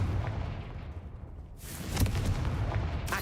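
Confringo blasting spell cast in Hogwarts Legacy, a burst of fiery impact noise that flares up about midway and keeps crackling and rumbling to the end, alongside steady game background sound.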